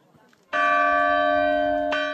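Church bell at Rocamadour rings out in the morning, a single loud, sustained toll with a rich, steady ringing tone, struck again near the end, heard close and alone.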